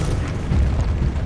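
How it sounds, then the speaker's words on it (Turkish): Explosions in the war game Battlefield Bad Company 2 make a loud, continuous booming rumble with heavy low-end roar through the whole burst, close and dominant. "Bunları patlatayım ben. En sevdiğim patlamalar."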